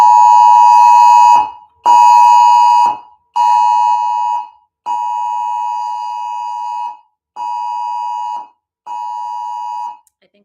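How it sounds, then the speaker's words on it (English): An Amber Alert emergency tone blares loud and close as six long, harsh electronic buzzes, each about a second long, separated by short silences and ending with no talk. "Oh, it was an Amber Alert."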